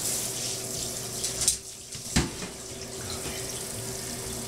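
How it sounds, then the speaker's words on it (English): Water from a shower runs steadily while a dog is bathed, a close, continuous hiss with a faint hum beneath and a couple of brief knocks and splashes partway through. "He does not like the shower."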